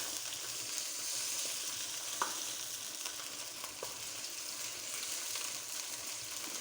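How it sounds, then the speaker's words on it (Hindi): Chicken karahi masala sautéing in a pan, a steady close hiss and sizzle of frying oil with occasional soft stirring clicks, continuous and fairly quiet with no talk over it. "थोड़ी सी बुनाई कर लेते हैं, फिर इसमें अदरक लहसुन टमाटर सब डाल देंगे"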